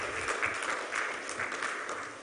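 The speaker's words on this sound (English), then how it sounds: "we need to give MTN another round of applause" Audience applause at a corporate executive breakfast meeting honouring MTN Ghana, a steady wash of clapping from a crowd that holds evenly throughout without fading.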